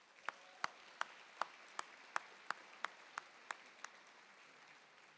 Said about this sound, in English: Do me a favor and just give yourselves a round of applause.